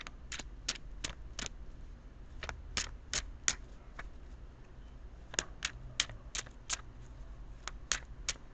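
Tarot cards being shuffled by hand make quiet, crisp riffling bursts in quick irregular groups, close and alone with no talk.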